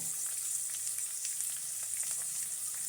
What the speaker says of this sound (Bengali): এবার ছোলা নেওয়ার পালা ছোলাটা একটু ভাজা হবে